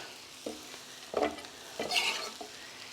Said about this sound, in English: we're just going to saute these just until they're all nice and tender and wilted